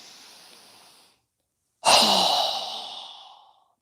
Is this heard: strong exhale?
yes